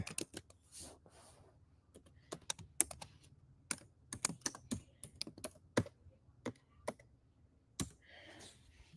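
Quick, uneven taps on a computer keyboard as an email address is typed, close and quiet, with bursts of keystrokes separated by short pauses.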